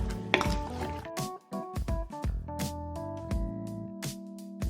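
Seasoned ingredients with blended ginger, all-purpose seasoning and salt are stirred in a pot, giving repeated clattering scrapes and knocks of utensil against metal, close and fairly loud, in uneven bursts.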